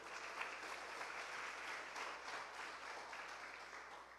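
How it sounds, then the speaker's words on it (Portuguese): A church congregation applauds in praise, a steady wash of many hands clapping at moderate distance, fairly soft and continuous throughout without voices standing out. "Aplauda o Senhor."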